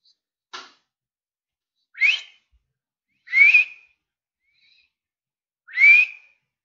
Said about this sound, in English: whenever I whistle